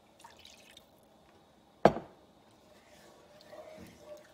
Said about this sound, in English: let's put some of our own beef broth in here